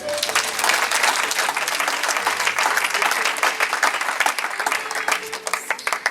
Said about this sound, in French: Alors on va applaudir le Seigneur.